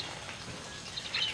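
Steady rain falls around a farmhouse yard with a mango tree, a dense, even patter throughout and a faint chirp near the end.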